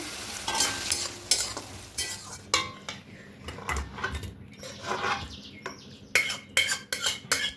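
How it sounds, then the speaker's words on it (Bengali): A spinach, prawn and potato curry cooking down uncovered in a pan as its water dries off, with a soft sizzle broken by repeated scraping and clinking stirs from a utensil against the pan, close and without speech. "এই জলটা আরও একটু শুকিয়ে নেব এবার কোনো কিছু ঢাকা দেবো না এভাবেই জলটাকে শুকিয়ে নেব"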